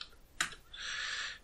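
Someone types a password on a computer keyboard: a single sharp key click, then a quick, quiet run of keystrokes.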